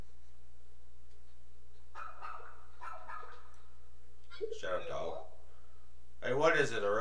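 Dog barking in the video game Pikmin 4, a few short yelping barks near the end, loud and close, following quieter game sounds and a brief voice.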